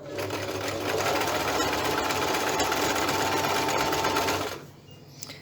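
A sewing machine runs a steady, fast zigzag stitch along the edge of fabric, close and continuous for several seconds before stopping.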